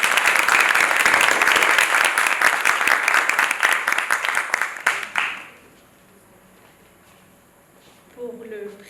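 Audience at a Ma thèse en 180 secondes thesis competition gives loud, sustained applause for all the candidates, which fades out about halfway through, leaving near silence until a voice starts speaking at the end.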